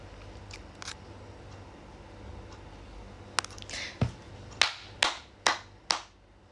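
Handful of sharp hand claps, about six, spaced roughly half a second apart near the end after soft quiet background with a few faint taps, close and distinct.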